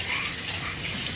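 Tap water runs in a steady, close hiss as a small child's hands are washed, a continuous gushing stream without pauses and with no voices over it.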